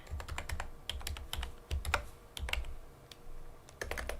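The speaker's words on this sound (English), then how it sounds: "I'll go ahead and just type it in." Rapid clicking of a computer keyboard during live severe weather coverage, bursts of close keystrokes with short pauses between them.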